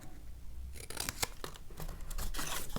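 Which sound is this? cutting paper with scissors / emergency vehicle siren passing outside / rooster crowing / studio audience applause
cutting paper with scissors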